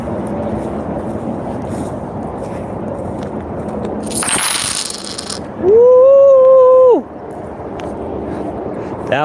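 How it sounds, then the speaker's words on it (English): A Cash App donation alert chimes once during a livestream, a short bright tonal sound rising then holding for about a second over background room noise and voice. "That was the sound of a Cash App donation."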